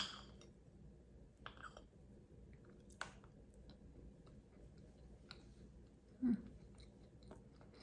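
Someone chews a bite of clementine-flavoured butter cake close to the microphone, with soft quiet mastication and a few scattered clicks and small bumps over a faint background hum.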